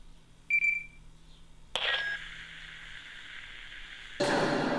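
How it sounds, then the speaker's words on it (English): A short Star Wars-style sci-fi comm beep, then a sharp click into a steady hum with a high whine, ending in a burst of buzzy static. "So he added the comm beep here."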